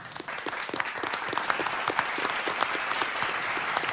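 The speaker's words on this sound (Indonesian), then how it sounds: "Kita beri tepuk tangan." A studio audience gives a full round of applause, with crisp, dense clapping that carries on evenly at moderate volume from start to finish.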